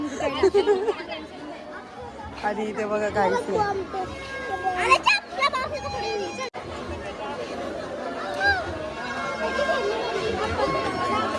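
Dense crowd chatter at a busy village fair (jatra), with children's voices and overlapping talk close by, a steady hubbub running throughout with a nearby speaker talking over it.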